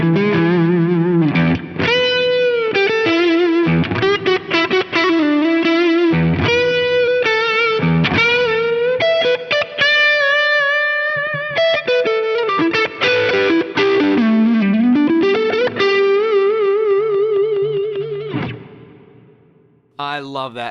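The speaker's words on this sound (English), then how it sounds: "Together with the compressor, it makes such a great combo into this USA Clean amp." An electric guitar plays clean through an Axe-Fx III with a Tone of Kings drive and compressor into a USA Clean amp model: bright sustained notes and chords with light chorus and echo, loud and continuous, fading out at the end.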